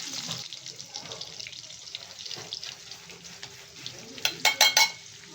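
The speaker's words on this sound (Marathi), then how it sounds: "कांद्याचा टाकवला आहे कांदा चांगला परतून घ्या" Onion sautéing in oil in a pan for a fish curry, a soft continuous sizzle with stirring scrapes and a few sharp clatters near the end.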